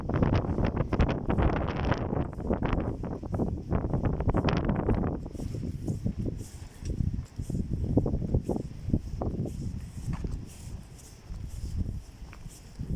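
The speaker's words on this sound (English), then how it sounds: "A lot of wind, as you can see." Strong, cold wind gusts across a quiet street on an icy Easter Sunday morning in Medjugorje, buffeting the microphone with loud, continuous rumble, with footsteps faintly beneath.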